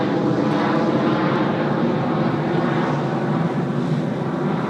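A Pilatus PC-24 business jet passes very high overhead near Sydney Airport, a steady, loud broadband roar of jet engine and wind that holds constant throughout with no talk.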